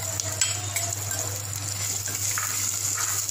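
Green chillies and small onions frying in a pan for fenugreek rasam, a steady close sizzle with faint stirring scrapes throughout, no voices.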